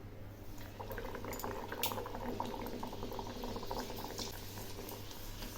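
Kamranga pitha frying in hot refined oil in a kadai, a steady close bubbling sizzle with fine crackles running throughout, no voices.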